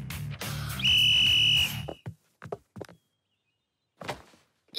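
A single sharp, steady whistle blast rings out for about a second to start a wrestling bout, followed by a few dull thumps and bumps.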